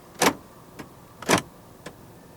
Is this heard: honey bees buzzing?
no